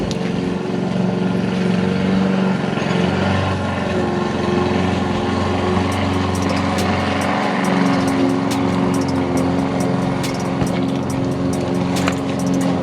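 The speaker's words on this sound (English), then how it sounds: "excuse the lawnmower or somebody getting their grass cut" A lawn mower engine drones steadily and loudly nearby, a continuous rough motor hum with no break throughout.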